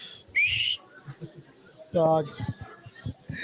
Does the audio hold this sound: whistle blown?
yes